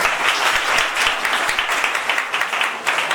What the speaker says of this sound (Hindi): फिर से एक बार आप सबके लिए जोरदार ताली हो जाए